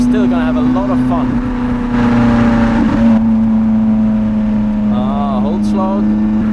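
A Lotus Elise sports car drives a twisty road with a steady engine drone, while short rising and falling revs come through a few times and a voice talks over parts of it.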